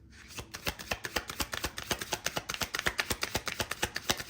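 Tarot cards are riffled and shuffled in a rapid, even run of crisp snapping flicks, close and fairly quiet, continuing steadily for several seconds with no talking.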